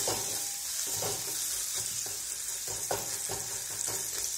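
Finely chopped ginger and garlic frying in oil, a continuous close sizzle with repeated stirring strokes at a roughly regular rhythm.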